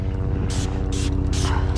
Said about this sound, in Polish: Oho, helikopter.